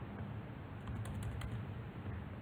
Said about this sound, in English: Here by just typing only simply false and true